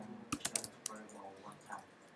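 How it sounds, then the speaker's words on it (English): Typing on a computer keyboard during a programming lecture: a short quick burst of close key clicks that tapers into a few softer taps, fairly quiet, with faint background voice. "Why am I typing final, by the way?"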